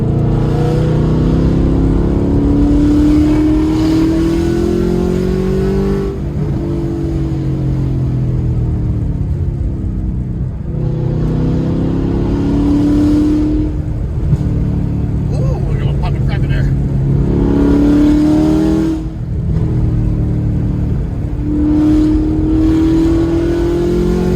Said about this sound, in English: so you guys can hear this exhaust